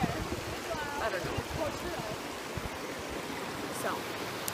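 Creek water flowing steadily in the background, a broad, continuous rushing wash that is moderately close and fairly quiet, with no speech over it.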